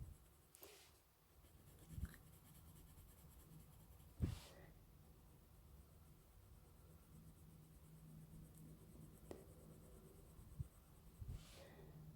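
A Caran d'Ache Pablo colored pencil moves across paper, producing faint, soft scratching strokes with a few brief taps, quiet and close in an otherwise hushed room.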